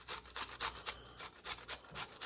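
Fresh ginger for Chinese dumplings rasped over a grater in quick back-and-forth strokes, a soft rhythmic scraping heard up close and alone.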